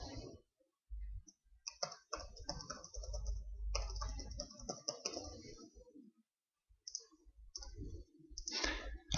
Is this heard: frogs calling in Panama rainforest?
no